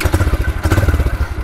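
A 2018 Yamaha YBR-Z motorcycle idling after start-up, a close, loud single-cylinder putter with a steady rapid thumping beat and mechanical clatter.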